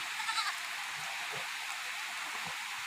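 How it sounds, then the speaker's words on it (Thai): Steady, dense hiss of heavy rain pouring down, constant and close, with faint goat bleats barely audible underneath. "ฝนตกหนัก"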